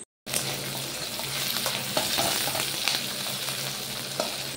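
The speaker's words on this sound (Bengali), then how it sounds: "প্রথমে পেঁয়াজগুলো ভেজে নিতে হবে কাঁচা লঙ্কার সাথে।" Onions and green chilies fry in hot mustard oil in a kadai, a loud, close, steady sizzle with occasional stirring scrapes and no voices.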